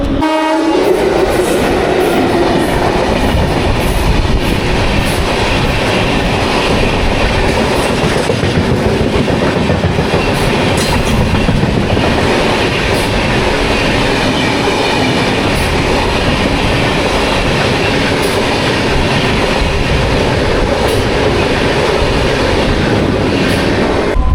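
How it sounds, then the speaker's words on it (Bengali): A local train pulls out of Nandakumar station bound for Digha, loud and close, with a steady rumbling roar, rhythmic clickety-clack of wagons and a horn sounding throughout, no talk. "ট্রেন ছেড়ে দিচ্ছে, চলুন উঠে পড়ি ট্রেনে।"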